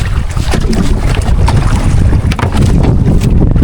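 Strong wind buffets the microphone in loud, continuous gusts, with the rumble of a fishing boat on open water near a payao underneath.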